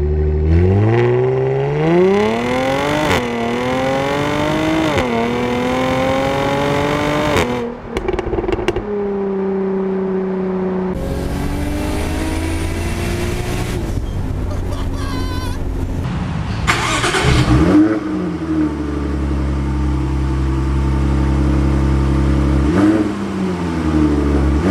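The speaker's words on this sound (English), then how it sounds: "drive what is probably one of the most Miami cars in existence, the Jaguar F-Type convertible" A Jaguar F-Type convertible engine revving through repeated climbing accelerations and gear changes while driving, loud and close with brief lulls between pulls.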